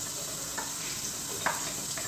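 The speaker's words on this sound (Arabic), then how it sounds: "شوفي كي نديرو البصل لازم يدير الصوت هذايا" Onion sizzles in hot oil in a pan, a steady close crackle with a few soft stirring scrapes.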